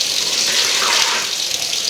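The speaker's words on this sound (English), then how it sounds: "I'm gonna add 2 2/3 cup of water in here." Water gushes steadily into a mixing bowl for a recipe, a close, continuous bright splashing pour of about two seconds with no talk.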